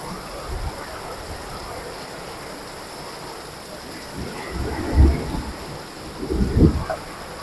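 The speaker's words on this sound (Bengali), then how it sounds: "প্রচণ্ড ঝড় বৃষ্টি, কালবৈশাখীর ঝড়" A Kalbaishakhi thunderstorm with heavy rain sweeps over Dhaka, giving a steady roar of rain and gusting wind, with low rumbling surges that swell in bursts toward the end.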